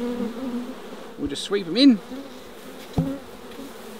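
Honey bees buzz close by while being swept and transferred from an old hive into a Flow Hive, their drone rising and swelling with a few sharp knocks, as a person speaks briefly.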